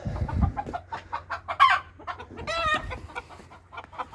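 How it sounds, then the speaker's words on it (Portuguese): A rooster on a rural smallholding clucking close by in short choppy bursts, then a longer drawn-out call, against a quiet background. "Tem um galo perdido aqui né?"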